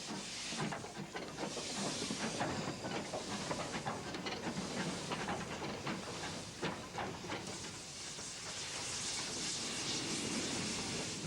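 A 2-8-4 steam tank locomotive works a mixed train east up the Corgo valley on a 1960s Portuguese narrow-gauge line: a faint, distant, steady wash of hissing steam and rumbling train noise with rapid irregular beats, and no voices.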